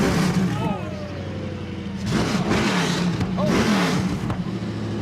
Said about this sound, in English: Rev it up, rev it up, rev it up.